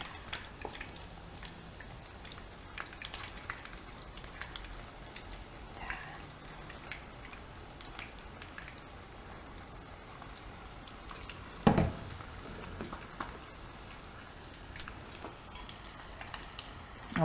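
Steady sizzling and crackling of chicken deep frying in hot oil for Korean dakgangjeong, with occasional louder pops and bumps, no talking.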